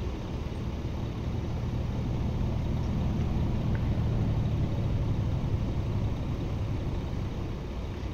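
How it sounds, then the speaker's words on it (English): A Kenworth T680 truck with a Paccar engine drones steadily in a truck simulator game, a constant low rumble with no pauses and no talk. "Listen to that Packard engine."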